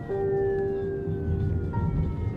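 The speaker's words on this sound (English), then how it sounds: "That evening, we heard sirens." Emergency vehicle sirens wail near the razor-wire border fence in Spain as police respond to migrants storming it, a steady sustained tone slowly sliding down in pitch over a rumbling, busy background, with a second siren tone briefly joining.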